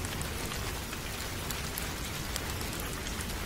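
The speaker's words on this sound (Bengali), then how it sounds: "আমি জানালার পাশে দাঁড়িয়ে বাহিরের বৃষ্টি দেখছিলাম।" Rain falls steadily in a cartoon sound effect, a dense, even wash of drops at constant loudness with no pauses or other sounds.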